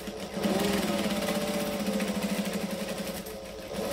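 A sewing machine stitches a bag, a continuous steady mechanical whir with a rapid rhythmic needle pulse, running close and loud for several seconds before easing off at the end.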